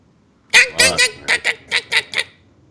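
A series of about eight loud, nasal honks, goose-like and close, sounds in an uneven rhythm against silence. It may be a person imitating an annoying bird.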